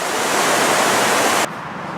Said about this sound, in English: look at that water really roar